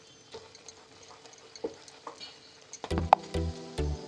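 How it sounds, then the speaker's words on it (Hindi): Mawa (khoya) is stirred while roasting in a pan, with soft scrapes and ticks from the spoon at first. A few louder, close scraping strokes follow near the end, with no talking. "अब इसे हम बराबर भूनेंगे, जब तक ये मेरा हल्का लाल या ब्राउन शेप में हो जाता है। इसे हम तब तक लगातार चलाते रहेंगे।"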